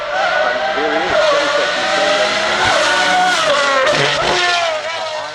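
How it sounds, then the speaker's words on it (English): A naturally aspirated Pagani V12 hypercar drives up the hill at the Goodwood Festival of Speed, its loud, high, screaming engine note holding and shifting in pitch as it passes close by. "this is the most extreme Pagani hypercar ever made, naturally aspirated, V12 engine"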